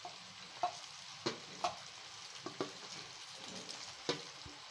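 Cooked macaroni tipped into a pan and stirred gives a series of soft scraping clatters and utensil knocks over a low, quiet sizzle, close and fairly faint.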